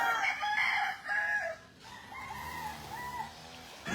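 A local banded stag, a young gamefowl rooster, crows once in a drawn-out cock-a-doodle-doo, followed by softer trailing calls, moderately close but not loud, with no talking.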